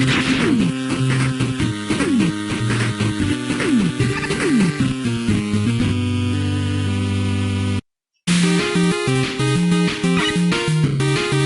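Loud, upbeat chiptune-style Mega Man Rock Force stage music with busy synth melodies and a driving bassline, cutting out briefly before resuming.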